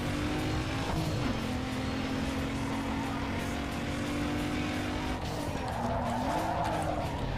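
Engine drone with long tire squeals and skidding from a car in Need for Speed Underground 2, a steady sustained whine bending in pitch as the car slides and crashes at high speed.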